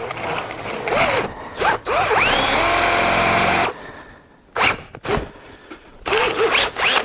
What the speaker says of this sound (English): Now you want us to use a split point drill bit.